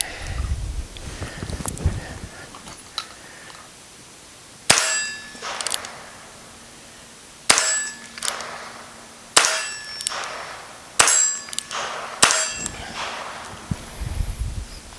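A budget .22 Magnum pistol is fired at steel targets outdoors: about five sharp, loud shots spaced a second or two apart, each followed by a ringing metallic clang, with quiet rustling in between.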